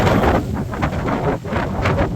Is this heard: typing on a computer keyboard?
no